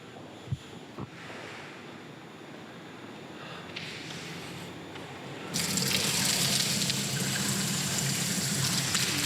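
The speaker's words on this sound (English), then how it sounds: "There is a sink, mop sink, utility sink, whatever you want to call it." Water gushing steadily from the tap of a utility mop sink in a house garage. It starts abruptly after a few seconds of quiet room noise and continues as a loud, steady rushing spatter to the end.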